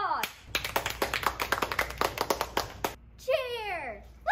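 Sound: audience applause

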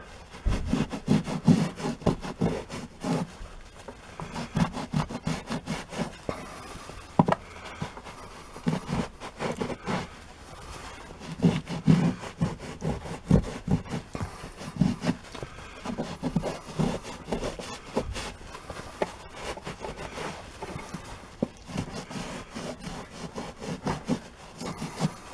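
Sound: scrubbing carpet with a microfiber towel

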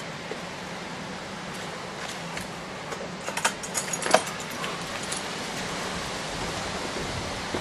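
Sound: keys jangling while searching for a key

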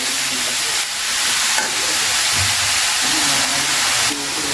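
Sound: stirring and frying leafy greens in a pan

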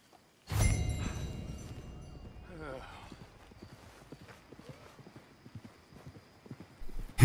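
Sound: horses trotting in a video game

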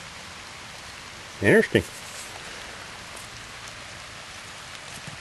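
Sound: rain falling at a campsite

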